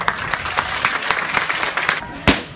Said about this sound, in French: On applaudit Alexia.